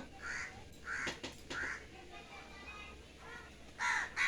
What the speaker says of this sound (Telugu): అక్కడ చూడండి బకెట్ ఒకటి పెట్టాము అంత కాకులు తాగిపోతూ ఉన్నాయి